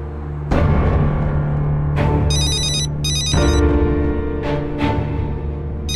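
A telephone rings in two short, bright electronic bursts of warbling tone over a steady low background hum, with no one speaking.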